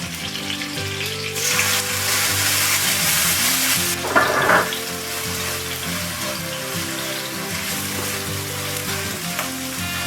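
Ginger garlic paste sautés in hot oil for a Kerala chicken kappa biryani: a steady, close sizzle that swells into a louder crackling burst, with a brief clink partway through over faint background music.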